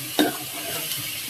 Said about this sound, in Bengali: তো এই যে এই পাঁচটাতে যে করলা ভাজি বসাই দিছি।